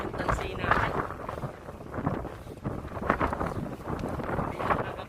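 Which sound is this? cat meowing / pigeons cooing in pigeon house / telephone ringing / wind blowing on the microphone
wind blowing on the microphone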